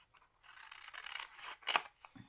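Scissors cut paper for a document journal, giving a quiet, close series of snips that ends in one sharper cut, with no voices.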